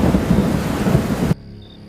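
Heavy rain pours steadily under rolling thunder in a loud, dense wash that cuts off abruptly partway through, leaving only a faint hum.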